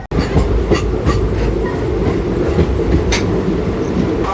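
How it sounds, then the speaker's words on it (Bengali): A Puri special passenger train runs at speed after leaving Santragachi, a loud steady rumble with rhythmic wheel clatter and occasional rail squeal heard from inside the coach. "সাঁতরাগাছি থেকে আমাদের ট্রেন ছেড়ে দিয়েছে।"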